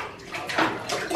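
A small child splashing and sloshing about in bath water, with soft irregular splashes and watery movement rising and falling over a brief moment, no talking.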